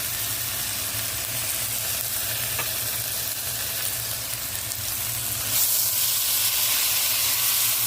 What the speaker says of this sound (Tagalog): ilagay natin itong kimchi na hiniwa-hiwa na natin